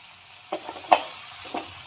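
Tomatoes frying in a pan make a low, steady sizzle, with a few brief scrapes and taps as they are stirred. The sound is near and quiet, and no one speaks.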